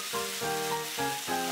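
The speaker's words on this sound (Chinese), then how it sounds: "接下来把蒜片、酸腌菜爆香，加入1勺蒜蓉辣椒酱" Garlic slices, sour pickled vegetables and garlic chili sauce stir-fry in a hot wok, giving a close, steady sizzle with about four rhythmic surges as the spatula tosses them.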